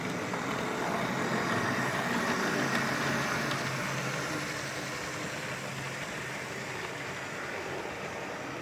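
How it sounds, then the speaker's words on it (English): An OO gauge Lima BR216 model locomotive running with its wheels slipping, a dense continuous whirring, grinding motor drone that stays steady and close, slightly louder in the first half, with no talk. "a little bit noisier because the wheels are slipping"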